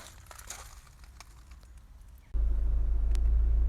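Honda Civic 1.6 i-DTEC diesel engine running, heard from inside the car: a quiet, muffled interior ambience gives way after about two seconds to a loud, steady low rumble that holds to the end.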